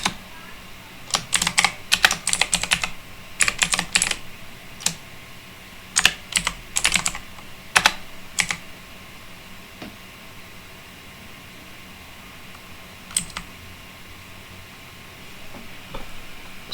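Commands are typed on a computer keyboard in bursts of quick, crisp key clicks, pausing between runs, close and clear over a faint steady hiss with no talking.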